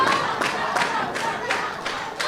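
Crowd in a small auditorium at a Clewiston wrestling show, rhythmic clapping and chanting in regular pulses at a moderate distance with crowd noise between the beats.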